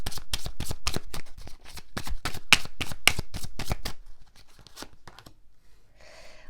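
Tarot cards shuffled in a rapid run of crisp riffling slaps for about four seconds, followed by quieter sliding and a soft rustle of the deck, with no talking.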